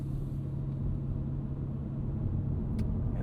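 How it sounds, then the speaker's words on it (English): Steady, loud low rumble of a 2025 Subaru Impreza RS hatchback engine braking downhill in manual mode, heard from inside the car with continuous road and drivetrain drone and no talk. "you can do this manual engine braking"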